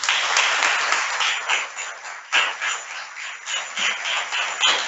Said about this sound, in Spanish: a los buenos papás les vamos a dar un fuerte aplauso